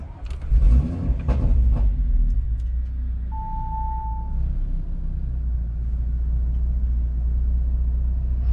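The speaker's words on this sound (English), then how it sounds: "First thing you need to do, start your car." An Audi RS3 engine fires up with a quick loud start, then settles into a steady low idle rumble that continues to the end, with a brief high tone around the middle.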